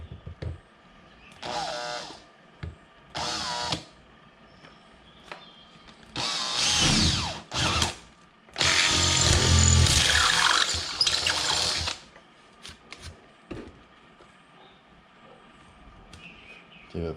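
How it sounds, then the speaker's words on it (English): A power drill bores a hole into a decorated skull in several short whirring bursts of rising length, the longest lasting a few seconds, close and loud with quiet pauses between. "So let's drill a hole in this bad boy."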